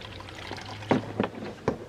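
Coolant and water mix poured into the cooling system of a BMW N52 engine, heard as a few short splashing gulps spaced about a third of a second apart over a faint low hum, fairly quiet.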